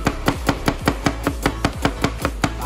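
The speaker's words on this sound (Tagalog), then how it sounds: "Ganyan ang maghiwa ng sibuyas guys." An onion being sliced very thin with a knife on a cutting board, a quick even series of about a dozen crisp, close chops with no talking.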